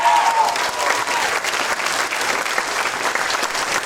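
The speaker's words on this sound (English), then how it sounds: "give Mondo a huge round of applause" A theater audience at an Alamo Drafthouse screening event for the Phantasm cast bursts into loud, sustained applause with dense clapping that holds steady throughout.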